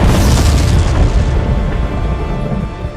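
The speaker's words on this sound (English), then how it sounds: "We then see those explosions that Francisco warned us about." Film explosions destroying a mine, a deep sustained roar and rumble that is loud from the start and slowly fades over a few seconds, with no voices.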